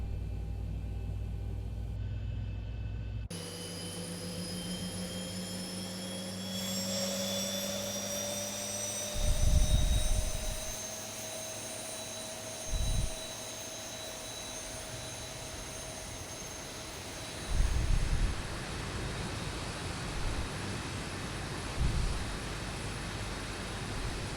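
A Zibo Mod Boeing 737-800 jet engine starts in X-Plane 12: a rising turbine whine climbs slowly through several tones over a low rumble, broken by a few heavier thumps as it spools up.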